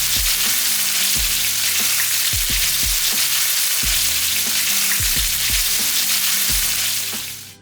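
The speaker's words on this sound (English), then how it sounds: "don't forget to listen to that lovely sizzling sound" Aromatics sizzle hard in hot pork fat in a pot for Chinese braised pork belly, a dense continuous frying hiss broken by regular knocks and scrapes of stirring.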